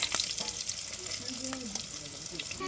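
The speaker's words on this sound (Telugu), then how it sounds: "పచ్చిమిర్చి వేసుకోవాలండి నెక్స్ట్ వచ్చేసి పసుపు వేసుకోవాలి" Green chillies and turmeric fry in oil in a pan for mutton curry, giving a steady close sizzle with a few stirring scrapes and a faint voice in the background.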